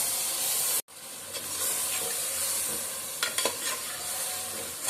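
Masala-marinated whole quail dropped into a hot pan, a loud broad sizzle and hiss with a brief cut near the start, then steady frying with a few stirring scrapes.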